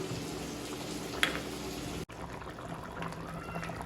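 Fish curry broth bubbles in a cooking pot, a steady close simmer with soft liquid burbling that briefly cuts out midway and then resumes.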